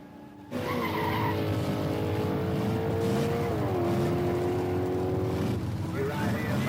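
Pickup trucks race at a dirt track shootout, engines roaring loudly and continuously with tires skidding, while a voice talks over the din.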